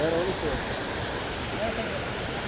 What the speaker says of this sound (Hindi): यहाँ से सामने से पानी आ रहा है, नीचे जा रहा है